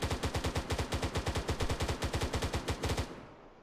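Sustained automatic gunfire in the Arma 3 combat game, a rapid, even burst of loud close shots for about three seconds that stops abruptly and leaves a short fading echo.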